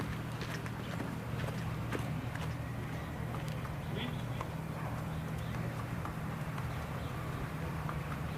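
Horses walking in a stable yard in Normandy, hooves clip-clopping in an uneven rhythm at moderate distance over steady background noise, with a narrator speaking over them.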